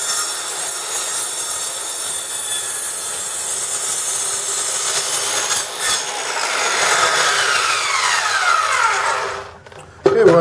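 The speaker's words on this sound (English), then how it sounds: "put the 90 on there, your rotary saw straight up." A rotary saw cuts through wood while a desk is being customized for wheelchair use, making a loud, continuous, rough grinding buzz for about ten seconds that shifts pitch midway before cutting off.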